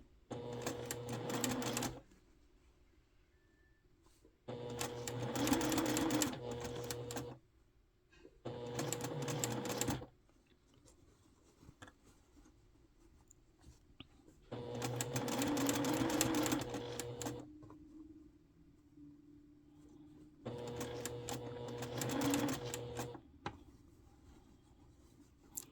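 Sewing machine stitching curved quilt pieces, in four bursts of fast mechanical whirring separated by quiet pauses, close and clear with no talk.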